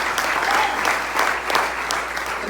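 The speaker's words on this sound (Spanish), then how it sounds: "Denle un fuerte aplauso al Dios Todopoderoso." A church congregation breaks into loud, sustained applause during a Spanish-language worship service, steady clapping filling the room for a few seconds.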